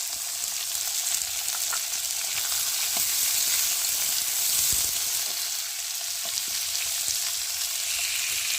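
Green peas, green chillies, carrot and potato frying in hot oil for a Bengali vegetable dal, a steady close hiss with faint scattered pops and occasional spatula scrapes, no talking.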